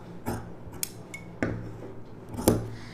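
Scissors cutting saree fabric to shape a frock, a few crisp close snips spaced about a second apart with light rustling of cloth between them, quiet with no talking.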